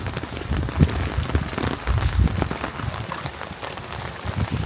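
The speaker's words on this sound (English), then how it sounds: "I've acclimatised to the rain in Wales" Steady rain patters densely on a surface nearby, a continuous wash of small drops with no voices.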